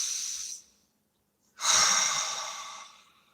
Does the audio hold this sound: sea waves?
no